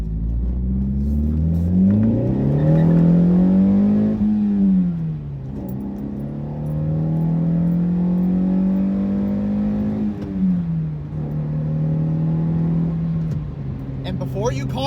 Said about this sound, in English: you'll be able to hear the exhaust difference maybe here